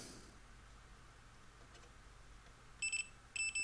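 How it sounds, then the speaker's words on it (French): A continuity tester probing a PC connector gives two short electronic beeps, each a clipped tonal chirp, near the end after a stretch of quiet background hum. "Et puis je vais tester les différents endroits du connecteur jusqu'à ce que ça bip."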